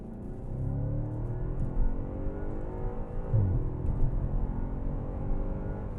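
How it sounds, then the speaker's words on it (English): A 2013 Audi RS5 accelerates hard down a straightaway with smooth automatic shifts, its engine note rising steadily through the gears, heard from inside the cabin as a muffled, continuous drone. "we'll give you an idea of the acceleration of this on a straightaway in the auto position"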